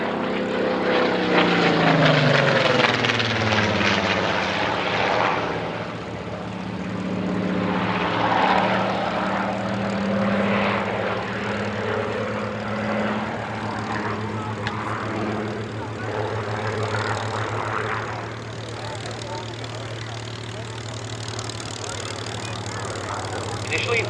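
A Spitfire fighter flies at the Duxford Autumn Air Display, its propeller engine droning loudly overhead and then fading to a steadier, more distant hum. A commentator speaks throughout.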